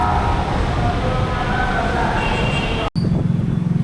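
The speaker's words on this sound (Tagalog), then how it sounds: "Dito na kami sa baba ng LRT." A Manila LRT train rumbles past overhead as people stand underneath, a steady loud roar of wheels and rail under street traffic, with a brief dropout near the end and a low hum afterward.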